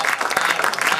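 Audience applause at a Hindi poetry conference, a dense steady clatter of many hands clapping for about a second, close and sustained with no pauses.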